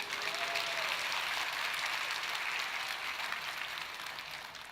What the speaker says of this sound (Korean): 그게 박수예요, 야유예요?